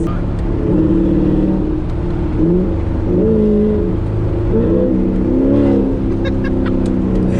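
A C7 Corvette Grand Sport accelerates hard at night, heard from inside the cabin with a loud, deep engine note that climbs in pitch through rising revs and shifts, steady and close throughout.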